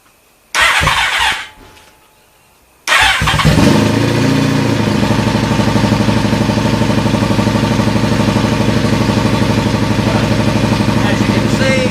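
Car engine cranks briefly, stops, then fires up on a second try and settles into a loud, steady close-up idle.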